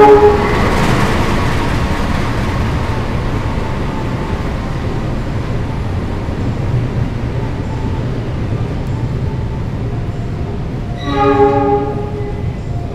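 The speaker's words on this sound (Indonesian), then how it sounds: "Ini kereta api Sembrani masuk di jalur 2." The Sembrani passenger train rumbles into a station platform. A steady, loud rolling roar fills the scene, and near the end a brief harmonic horn blast sounds over it.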